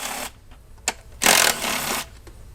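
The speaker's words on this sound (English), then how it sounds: "I've got it attached to a cordless impact." Cordless impact wrench backing off bolts on the 3.6 engine of a 2011-2017 Chrysler 300, Dodge Charger or Challenger during spark plug replacement, heard as several short, loud, close whirring bursts with brief pauses between them.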